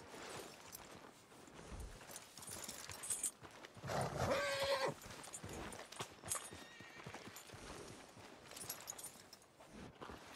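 Horse in Red Dead Redemption 2, hooves clip-clopping in a steady walk, with a brief whinny and snort partway through, close and fairly quiet.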